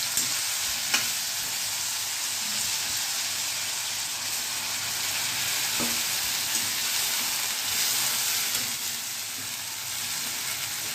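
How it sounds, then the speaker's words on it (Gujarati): Spices sizzle in hot oil as a tempering for a Gujarati carrot and chilli sambharo. A bright, continuous crackling hiss holds steady throughout, with a couple of faint clicks and no talking. "જો એકદમ સરસ વઘાર આવ્યો"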